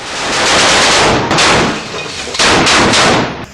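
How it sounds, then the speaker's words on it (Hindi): Machine gun fire during fighting in the Jabalia camp in Gaza, heard as loud, close, sustained bursts of rapid shots with brief gaps between volleys. "एक लड़ाका मशीन गन से आईडीएफ के ऊपर ताबड़तोड़ फायरिंग करने लगता है"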